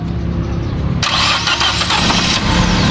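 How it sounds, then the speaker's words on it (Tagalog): A Nissan Almera car engine is cranked with its throttle open, a starter whir giving way about a second in to a loud catch and rough running engine, close up, with no talking. "I-try nating start. Engine start."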